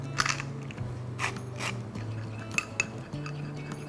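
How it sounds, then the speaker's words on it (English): Whisk clinking against a bowl while mixing a dressing of lemon juice, olive oil, mustard, salt and pepper, a quick run of close metallic taps and scrapes. "we're going to whisk this together with some salt and pepper"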